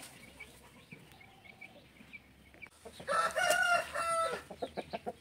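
A fighting rooster of the peacock-tailed type, kept tethered, crows loudly close by in an outdoor setting, with fainter clucks and another bird in the background before it.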